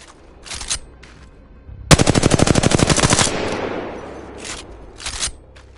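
Rapid automatic gunfire from shooting targets in a PS4 video game, a loud sustained burst of evenly spaced shots with a few shorter single bursts before and after, no talk.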